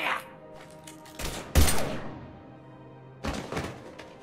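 Gunfire in the video game Mass Effect 3: a few loud, sharp bursts of shots, a sudden opening crack, a thick volley in the middle and another burst near the end, with quieter gaps between.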